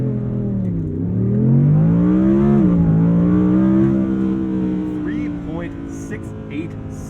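An Audi R8 Performance RWD coupe launches hard from a standstill to 60 mph, its engine note climbing loud and close through rising revs with a brief dip at a gear change, then settling into a steady high drone.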